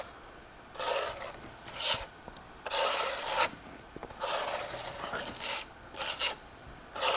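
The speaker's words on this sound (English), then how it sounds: "I'm going to take my faux stone and my spatula, and I'm just going to come across like so." Spatula spreading faux stone plaster across a wall stencil: several bursts of scraping, rasping strokes, each a second or so long, separated by short pauses, close and moderately loud.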